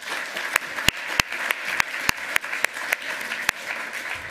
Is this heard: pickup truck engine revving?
no